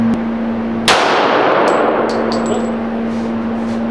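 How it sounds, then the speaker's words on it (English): A single sharp pistol shot fired at a target cracks loudly and rings off with a metallic clang, followed by a few faint clicks over a steady background hum. "I'm going to fire, see if I can hit two on the target"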